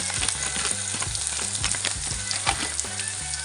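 Masala spices sizzle and fry in a hot pan for a cauliflower and potato dish, a steady close crackle with rhythmic stirring scrapes throughout, no voices.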